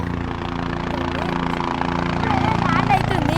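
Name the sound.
helicopter arriving near Kedarnath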